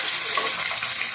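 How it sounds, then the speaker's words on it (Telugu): Eggs sizzle and fry in hot oil in a pan while egg masala curry is being cooked, a steady close hiss with no break across the short moment. "ఎగ్స్ అయితే వేస్తున్నారండి, బాగా బాగా ఎరిగేలాగా అలా వేసుకోండి."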